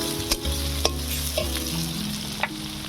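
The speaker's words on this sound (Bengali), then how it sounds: "এবারে দিয়ে দিচ্ছি সরিষার তেল, দিয়ে দিচ্ছি পেঁয়াজ কুচি।" Chopped onion frying in mustard oil in a pan, a loud steady sizzle with a few sharp scraping knocks of a stirring spoon against the pan.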